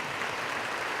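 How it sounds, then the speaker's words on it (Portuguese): Brief burst of audience applause on a television program, a steady wash of clapping lasting about a second with no voices over it. "Agora, vocês vão receber também da minha parte uma salva de palmas."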